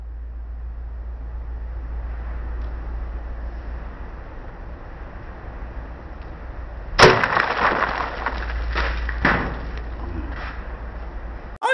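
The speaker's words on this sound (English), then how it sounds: "we are going to be smashing that gingerbread house that we made in the other video" A homemade gingerbread house smashed apart after quiet room tone, one sudden sharp crunching crack followed by several more cracking and crumbling hits over a few seconds, close and fairly loud.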